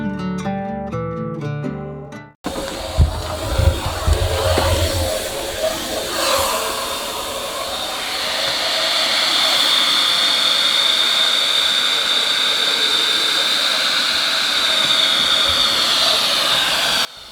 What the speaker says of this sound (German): neben unserem Akkusauger noch einen richtigen Staubsauger dabei zu haben, mit dem man auch in die Ecken kommt